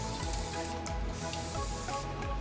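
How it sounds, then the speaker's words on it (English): Alcohol is sprayed from a spray bottle onto the ear mesh of an LG G8X phone during repair, giving a steady close hiss that runs throughout, with faint pumping pulses underneath. "So I'm just gonna spray some alcohol."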